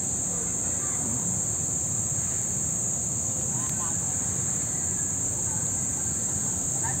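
A steady, high-pitched drone of crickets in a forest fills the air continuously, with low rumbling background noise underneath and no breaks.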